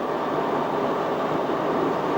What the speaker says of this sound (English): The train finally arrives 6 minutes late